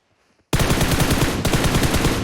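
Continuous automatic gunfire in PUBG Mobile bursts in suddenly after a half-second of near silence, loud and close, a dense rapid stream with a brief break near the middle before resuming.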